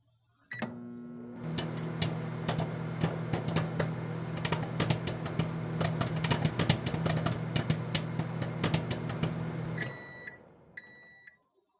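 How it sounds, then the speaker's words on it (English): A microwave oven hums steadily for about ten seconds with scattered ticks and clicks while making oil-free popcorn in a popper, then stops and beeps a few times. "Then place in the microwave for about 2 minutes"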